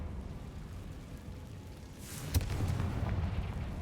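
A Confringo fire spell blast in Hogwarts Legacy, a sudden sharp boom midway through, followed by a crackling, rumbling burn over steady low game ambience.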